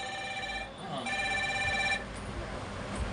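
A mobile phone being tested in a repair shop rings with a tonal, melodic ringtone for about two seconds, then stops, with faint shop voices around it.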